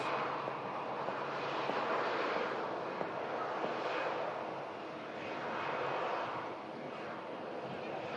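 An airliner landing at the end of a short 48-minute flight, producing a continuous distant jet roar that swells and fades gently in broad waves.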